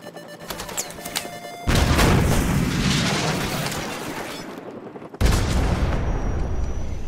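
A Stinger missile launches and explodes in Modern Warfare Remastered, a loud booming blast that jumps in near 1.7 seconds with sustained rumble, then a second sharp blast around 5.2 seconds, with no talking.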